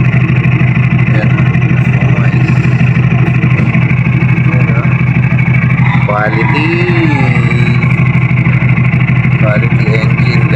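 A motorcycle engine runs at a steady idle after an oil change, a constant loud close-up drone with a faint voice briefly audible over it.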